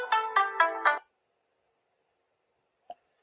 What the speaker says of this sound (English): it sounds like we got a call